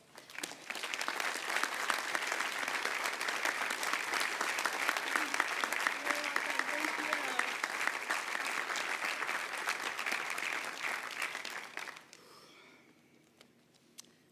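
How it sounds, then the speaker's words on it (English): A university commencement audience at Johns Hopkins applauds after a speaker is introduced, sustained dense clapping from a large crowd that fills the hall for about twelve seconds before fading to scattered claps. "Give yourself a round of applause, please."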